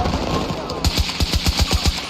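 Rapid gunfire from a video game heard through a gaming headset, a quick burst of about ten sharp shots in steady rhythm rising over a busy background.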